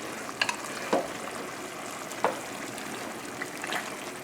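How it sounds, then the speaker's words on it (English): Dry white wine hitting a hot pan over a high flame with chicken thighs, giving a steady soft sizzle and hiss with a few sharp crackling pops scattered through it. "And now we add the 1 cup of dry white wine. High flame, as you can see."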